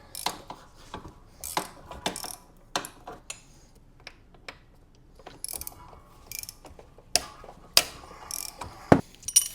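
A ratchet wrench clicks in short, irregular bursts as bolts on an ATV are loosened by hand, close and fairly quiet, with pauses and small metallic clinks between strokes.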